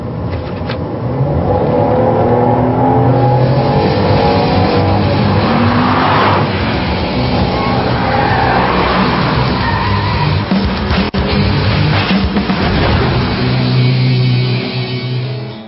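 A Volvo S60 on a test drive takes corners at high speed, its engine roaring loudly and steadily up close while tires squeal and scrub through the turns, with no voices.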